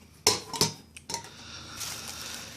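Stainless steel mess kit pots and a thin skillet clank and clatter as they are handled, two sharp metallic clinks followed by softer scraping and rattling, close and alone.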